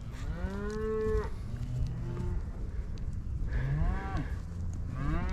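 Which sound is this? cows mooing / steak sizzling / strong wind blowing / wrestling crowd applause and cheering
cows mooing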